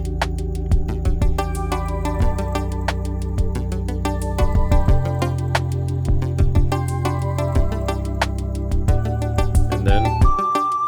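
Self-produced electronic music track with bell tones, a steady drum pattern and a newly added bass line, playing continuously and loudly with a deep low end and shifting bass notes.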